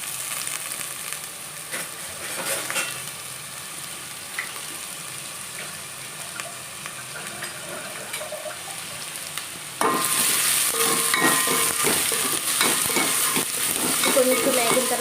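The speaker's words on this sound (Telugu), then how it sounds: "ఆనపకాయ ముక్కలు వేసుకొని కలుపుకుందాం" Pieces of bottle gourd fry in a pan while being stirred, a continuous crackling sizzle with scraping strokes that grows louder and brighter partway through.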